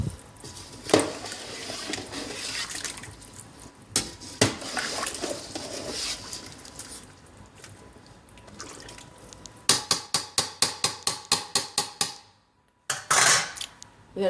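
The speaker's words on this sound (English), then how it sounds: "You're going to stir it all up." A spoon stirs gumbo in a pot with scattered metallic clanks and scrapes. It ends in a quick, rhythmic run of close scraping strokes, then a brief pause and one last burst.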